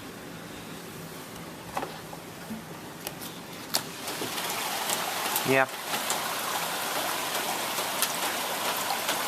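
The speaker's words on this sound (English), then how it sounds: "It's raining a lot." Heavy rain falls steadily in Norway, a constant patter and hiss that grows slightly louder, with a brief spoken remark and a few scattered knocks over it.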